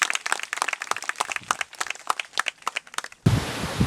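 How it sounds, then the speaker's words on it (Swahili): A crowd applauds at a school desk donation event, brisk dense clapping close by for several seconds before it cuts off abruptly into outdoor noise. "Makofi mengi."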